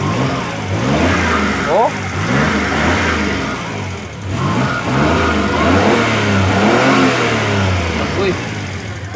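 Suzuki F6A fuel-injected engine with a replaced injector, revved repeatedly up and down close by, rising and falling pitch sweeps over a steady idle, with brief talking in between.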